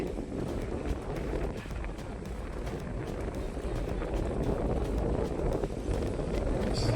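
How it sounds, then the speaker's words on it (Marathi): Strong wind roars steadily across the microphone in an open groundnut field with swaying coconut palms, a continuous rumbling buffet with no pauses, loud and close throughout. "एकदम वारा सुटलेला आहे"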